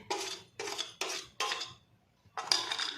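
Spoon scraping and clinking in a bowl while mixing masala of crushed peanuts, garam masala, coriander and salt, in four quick bursts, a pause, then one more, close and moderately loud.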